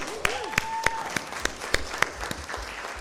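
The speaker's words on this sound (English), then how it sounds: "give her a round of applause" Applause during a committee meeting: a small group clapping in separate sharp claps over roughly three seconds, with a faint tone and background murmur in the room.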